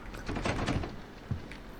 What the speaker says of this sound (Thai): เปิดไม่ได้ มันติดอ่ะ มันล็อกอ่ะ